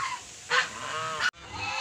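Domestic geese honking, a few loud nasal honks close by in a Philippine farmyard, one long call in the middle cut off abruptly, with quieter background sounds around them.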